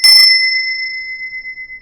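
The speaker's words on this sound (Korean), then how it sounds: "이 종소리 하나도 투명하고 경이롭고 신성인 거예요." A small bell is struck once in a meditation or healing session, giving a bright metallic strike that settles into a clear, sustained ring and fades slowly with a gentle shimmer.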